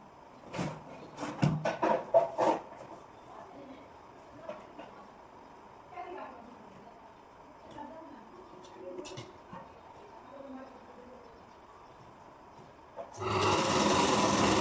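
Sewing machine stitching the sleeve of a princess-cut blouse, a quick rhythmic run of stitches near the start followed by quieter, intermittent machine sounds under a woman's speech.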